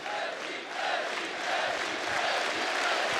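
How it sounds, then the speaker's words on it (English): A large arena crowd roars and cheers throughout a CS:GO esports grand final at IEM Katowice 2016, a dense, sustained wall of voices swelling slightly louder toward the end. "Crowd is getting pumped."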